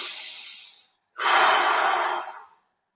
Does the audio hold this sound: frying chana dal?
no